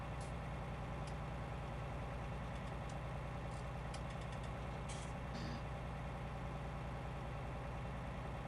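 A CLAAS combine harvester engine idles in Farming Simulator 19, a steady low rumble with an even drone and a few faint clicks and ticks on top.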